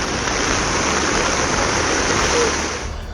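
Floodwater rushes through the gap where a bridge in Tikamgarh district was washed away, a loud, continuous roar of churning water that fades slightly at the end.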